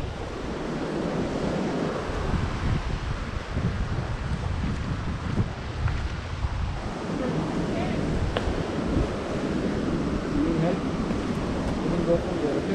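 Surf washes steadily onto a tropical beach in Goa, India, a constant broad roar of waves mixed with heavy wind buffeting on the microphone, with some talk.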